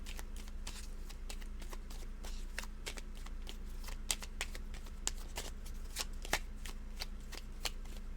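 Close, continuous hand shuffling of a tarot deck, quick papery riffles and taps in an uneven rhythm, with no one speaking.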